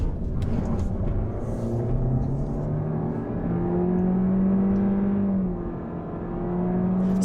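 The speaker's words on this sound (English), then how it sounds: "You can kind of hear the continuously variable automatic transmission groaning there." A 2022 Honda Civic compact sedan with a continuously variable automatic transmission accelerating, its steady engine drone and rising transmission groan sustained throughout without voices, heard from inside the cabin.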